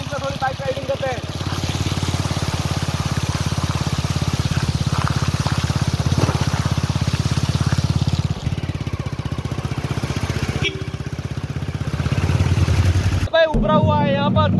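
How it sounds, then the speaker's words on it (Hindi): Motorcycle engine droning steadily as the bike rides through a rain-waterlogged road on the way to Kamnath temple, a continuous close mid-pitched hum with rain and brief voices around it. "चलिए इसमें थोड़ी बाइक राइडिंग करते हैं।"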